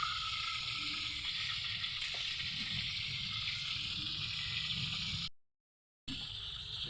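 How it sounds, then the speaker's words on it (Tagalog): Pork frying in a pan for humba, a steady close sizzle of hot oil that runs without pause, cuts out briefly near the end and then resumes. "Ito prito muna tayo guys habang naghihintay tayo ng naluluto."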